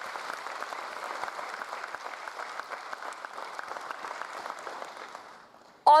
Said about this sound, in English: Thunderous round of applause, don't you think so